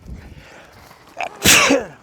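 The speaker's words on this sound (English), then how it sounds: "sneezing" A single sharp, loud sneeze up close, preceded by a brief intake of breath, outdoors on a windy day with faint wind rumble beforehand.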